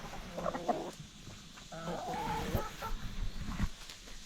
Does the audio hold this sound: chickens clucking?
yes